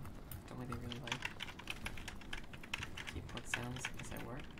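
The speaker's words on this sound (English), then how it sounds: "the keyboard sounds on this keyboard are very therapeutic" Keys on a computer keyboard clatter in a brisk, irregular run of close, crisp clicks, with a low steady background underneath.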